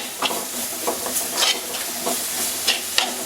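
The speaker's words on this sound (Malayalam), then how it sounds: "ഇതിനകത്ത് ഒരു 2 മിനിറ്റ് ഒന്ന് വഴറ്റുക" Masala paste sautéed and stirred in a pan for a fish-free fish curry gravy, a steady close sizzle broken by repeated scraping stirs of the spoon, with no talking.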